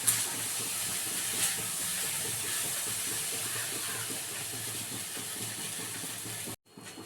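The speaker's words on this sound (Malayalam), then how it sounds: "തിളപ്പിച്ചാണ് ഒഴിക്കുന്നത് അരിയിൽ." Boiled water poured onto rice for fried rice, a steady close hiss and rush of liquid that runs evenly for several seconds before cutting off abruptly.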